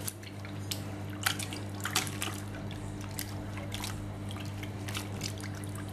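Tie-dyed cloth being lowered into plain cold water, giving small drips and splashes with a light trickle over a steady low hum, no talking.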